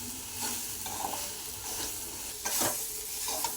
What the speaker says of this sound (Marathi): अशी सारखी हलवत राहायची आहे तिचा हा चिकटपणा आहे हा निघून गेला पाहिजे